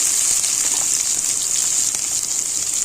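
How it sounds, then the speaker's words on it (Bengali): Chopped onion frying in hot oil for a village-style chicken roast, a steady loud hiss and crackle that holds continuously throughout with no talking. "রোস্টের জন্য পেঁয়াজ কুচিটা দিয়ে দিলাম। এখন এটা একটু লাল লাল করে ভেজে নেব।"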